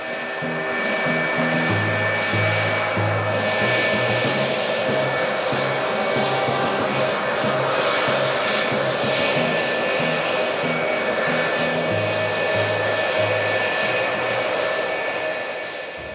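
An F-104 Starfighter jet engine roars steadily and loudly, a continuous high-pitched whine over a deep rumble that holds without letting up.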